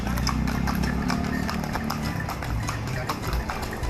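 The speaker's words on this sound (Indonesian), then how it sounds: "Abi, lihat, ada delman." A horse-drawn delman carriage passes with steady clip-clopping hooves over a constant low rumble of street traffic.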